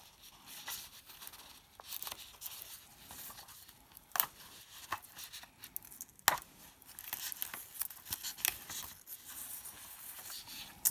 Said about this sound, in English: tape removal.